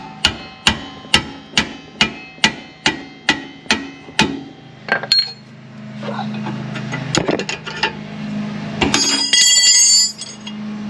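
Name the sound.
17mm spanner on Supra brake bolts, loud clanking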